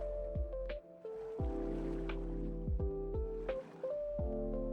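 Water being pumped out in the building game Timberborn, a soft sloshing and gurgling flow with low tonal hums layered over it, steady and fairly quiet.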